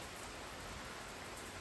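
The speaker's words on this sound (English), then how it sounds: "It's been raining all morning." Heavy hurricane rain pours steadily in a dense, even hiss with no breaks, close and constant across the whole stretch, with no other sounds standing out.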